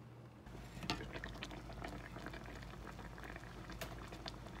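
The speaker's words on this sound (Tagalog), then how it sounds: "Kumukulo na siya." Steady bubbling of a pot of lechon paksiw stew at a rolling boil, dense popping and gurgling close by, with no voices.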